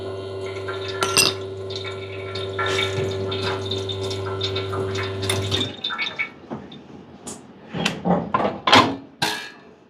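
An espresso machine with an E61 group pump hums steadily while water flushes through the portafilter, then stops, followed by clinks and handling sounds.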